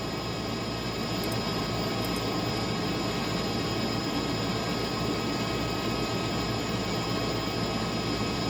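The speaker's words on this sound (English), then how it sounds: "we brought our APU along." An auxiliary power unit runs beside a parked Bell 222 helicopter at a campsite. It gives a steady, loud, continuous whine and hum that holds level throughout, with no talk.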